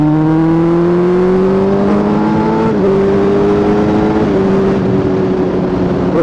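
A van drives past close by with a loud, steady engine drone and a slowly falling pitch, filling the road scene from start to finish.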